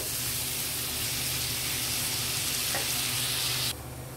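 Vegetables fry with spices in a pan, a steady loud sizzle with stirring that runs unbroken, then drops to a softer hiss near the end.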